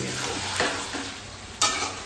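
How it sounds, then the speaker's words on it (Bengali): Fish sautéing and being stirred in oil in a kadai with potatoes, a steady sizzle broken by a few sharp scraping stirs, close and loud with no talking. "একটু মাছটা দিয়ে ভালো করে কষাচ্ছি আমি"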